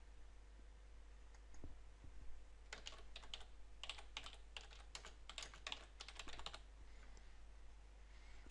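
Someone types a short title on a computer keyboard, giving a quick run of close, crisp key clicks over a faint steady hum. The room is quiet before the typing starts and falls quiet again after it ends.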